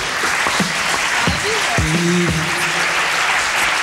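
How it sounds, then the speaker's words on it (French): A TV studio audience applauds steadily with dense, even clapping throughout, while voices talk and call out over it. "Applaudissements pour là, s'il vous plaît."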